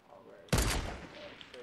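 Burst of gunfire in Fortnite breaking out suddenly after a quiet moment, loud and sustained for about a second before tailing off, with a voice faintly beneath.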